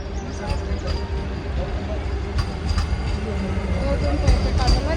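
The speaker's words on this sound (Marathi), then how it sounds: "ही बघा क्रॉसिंगला लागलेली गाडी वंदे भारत आली" A Vande Bharat express train passes a railway crossing at Khed, heard as a steady, loud rolling rumble with faint rhythmic wheel clacks throughout, while voices murmur in the background.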